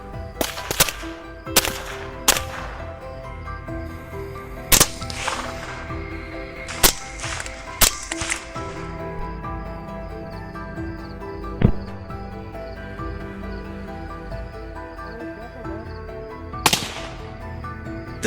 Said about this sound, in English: The gunshots rang out,